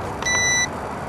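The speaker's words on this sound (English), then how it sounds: "Now it beeps continuously" A drone remote controller gives out one steady electronic beep of about half a second, a clean high tone with several stacked harmonics. It sounds loud and close over a faint background hiss, with no talking.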